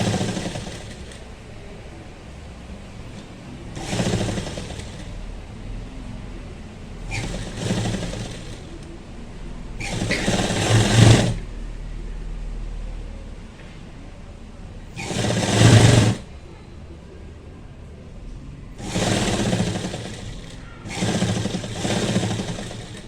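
Sewing machine stitching a blouse at a tailoring table: several separate bursts of rapid mechanical whirring, each a few seconds long, come close and loud, with quieter gaps between them and no talking over them.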